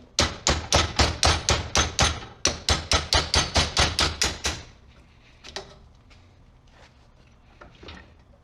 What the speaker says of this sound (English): hammering the old mount out